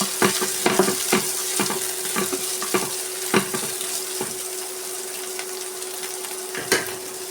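Curry leaves and green chillies saute in a pan for boiled egg thoran, a constant sizzle broken by repeated spatula scrapes and taps, close and fairly loud.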